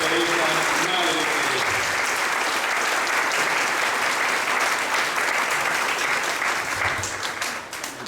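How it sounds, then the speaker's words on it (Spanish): A church congregation applauds Saint Teresa of Calcutta during a thanksgiving Mass for her canonization, a dense, loud and sustained burst of clapping that thins slightly toward the end. "Aplauso a Santa Teresa, Madre Teresa."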